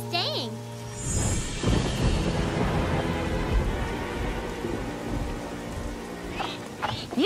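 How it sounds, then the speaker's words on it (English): Cartoon rain falls in a steady wash with rumbles of thunder, heard during a camping trip in a tent, with a child-like voice chirping briefly at the start and end. "We'll just have to wait the rain out."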